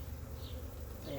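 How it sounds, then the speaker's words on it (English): Honeybees buzz in a steady, dense drone throughout a hive split inspection on a cloudy, cool day, the colony queenless and agitated; the hum stays close and continuous with no talking. "they have no queen, so they are not happy bees"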